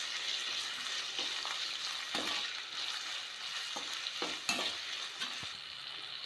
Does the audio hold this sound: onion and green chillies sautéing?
yes